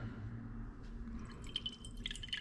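Water dripping and trickling back into a bowl from a squeezed magic eraser sponge, a few soft close splashy drips that gather toward the end of a short, quiet stretch.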